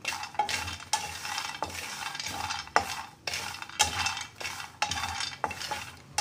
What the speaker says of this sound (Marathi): त्यामध्ये आपण शेंगदाणे टाकूया. त्याला थोडं फ्राय करून घेऊया.